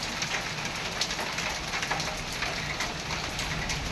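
Hailstones fall in a dense, continuous patter, with rapid sharp taps and clicks layered over a steady rushing wash, close and moderately loud.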